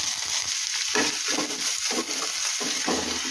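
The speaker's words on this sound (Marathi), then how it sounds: "याच्यामध्ये कांदा टाकून घेऊया" Chopped onion sizzles and fries in a pan as aloo paratha filling is cooked, a steady close hiss with soft stirring scrapes at irregular intervals and no voices.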